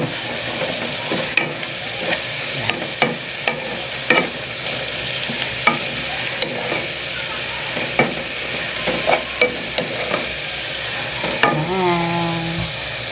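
A pot of milkfish stewed in vinegar (paksiw na bangus) simmers and hisses steadily while a spoon clinks and scrapes against it several times, close and fairly loud.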